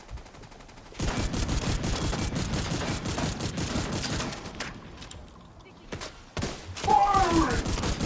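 Automatic gunfire rattles in the shooter game The Division 2, dense rapid bursts holding for several seconds, then a brief lull and more shots, loud and close, with voices calling out between the volleys.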